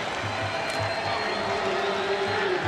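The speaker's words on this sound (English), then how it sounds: "Well, the crowd loves it." A college football stadium crowd at a Utah State vs. Hawaii game roars in a steady, dense wash of cheering for a 4th-down attempt. The noise is loud and sustained throughout, with no distinct voices.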